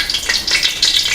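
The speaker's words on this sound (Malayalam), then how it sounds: "എണ്ണയൊന്ന് ചൂടായി വരുമ്പോഴത്തേക്കിനും നമുക്ക് കടുക് ഇട്ട് കൊടുക്കാം കേട്ടോ." Mustard seeds spattering and crackling in hot oil, a dense, steady sizzle with quick pops throughout, close and fairly loud with no voices.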